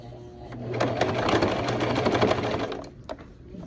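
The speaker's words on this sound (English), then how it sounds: "the exact line, stitch line that you already sewed, to give it a double look" Close sewing machine running a second stitch line over an earlier one for a double-stitch look: one short, steady whirring burst of about two seconds, then a couple of faint clicks as it stops.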